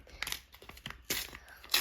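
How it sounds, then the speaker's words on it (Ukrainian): A paper surprise packet is torn open with an opener tool, producing several short close ripping and crinkling bursts in quick succession, faint and alone. "Давайте відкривати наш пакетик."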